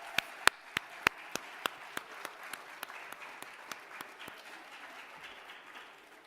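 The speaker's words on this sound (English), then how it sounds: "You give them the round of applause." Sparse, individual claps ring out at a high school honor society induction ceremony, a few sharp hands at first, then thinning and fading into scattered, softer claps across the room.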